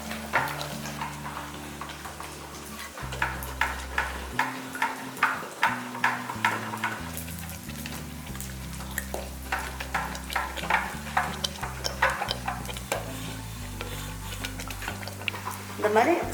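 Cooked palak spinach dal is mashed in a pot with a rhythmic series of soft, squelchy strokes and light scrapes, close by, under steady background music.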